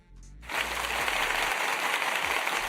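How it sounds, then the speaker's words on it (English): Applause breaks out after a brief quiet lead-in and continues as a steady, dense wash of clapping for Tony, fairly close and loud, without talk over it. "Tony gets some applause."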